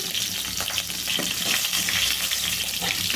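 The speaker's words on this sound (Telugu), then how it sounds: "తాలింపు అయితే బాగా వేగిందండి" Steady sizzle of tempering spices frying in hot oil for stuffed brinjal curry, close and continuous, with faint scraping of stirring and no talking.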